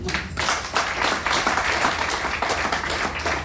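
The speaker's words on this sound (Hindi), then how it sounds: "एक बार जोरदार ताली हो।" Crowd at a DXN motivational gathering breaks into loud, dense applause, continuous clapping filling the whole stretch.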